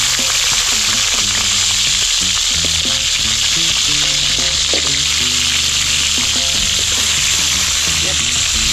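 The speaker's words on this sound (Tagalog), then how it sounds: "Talong, prituhin natin." Eggplant fries in hot oil with a loud, continuous hiss and sizzle that holds steady throughout, with faint clatter and low sounds underneath.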